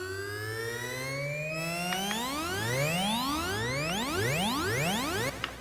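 Mobius effect on a Pioneer DJ DJM-A9 mixer, a continuous loud synthetic tone whose harmonics sweep steadily in an endless rising glide, with a brief click near the end and no voices.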